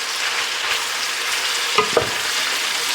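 Onion and ham fry in a pot for a Southern split pea soup, giving a loud, steady close sizzle with two brief stirring scrapes partway through.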